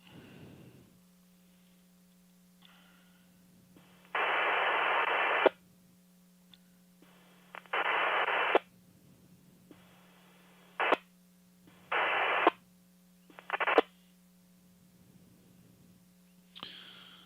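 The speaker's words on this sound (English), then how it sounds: "that signal was unreadable. I didn't hear a voice in that at all. I just heard a series of key ups." A GMRS radio repeater carries a series of unreadable key-ups with no voice: several bursts of hissing static of varying length, separated by quiet stretches over a constant low hum.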